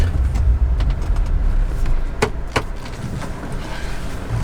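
A car drives along a rural road during bow hunting season, a steady close rumble of engine and road noise with a few clicks and knocks from inside the cabin as it turns around.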